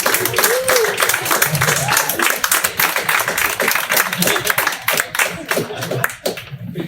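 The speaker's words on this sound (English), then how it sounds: "Another round of applause for Brad Erickson." Clapping from a dinner theater audience at the close of a comedy magic show, dense and steady at first, then thinning out toward the end, with some voices mixed in.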